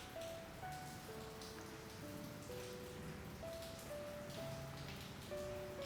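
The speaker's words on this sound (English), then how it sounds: "This dripping sound effect is definitely rain, and not coffee dripping from the carafe" Rain patters steadily in the video game Cafe Enchante, a soft continuous dripping under quiet, sustained musical tones, with no one talking.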